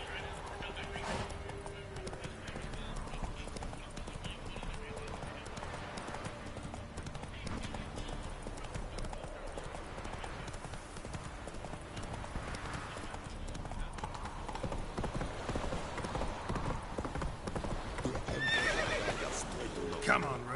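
Roach, the horse in The Witcher 3: Blood and Wine, gallops with steady clip-clopping hooves and lets out neighs, under a continuous game soundtrack while someone talks over it.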